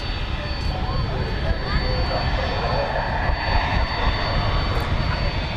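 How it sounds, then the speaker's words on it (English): An Air Canada Boeing 737 MAX 8 narrow-body jet arrives at DFW Airport at night, its engines a loud, steady, close roar that fills the whole stretch. "We have another international flight coming in. It's a narrow body. It's Air Canada."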